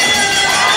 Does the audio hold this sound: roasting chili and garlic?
no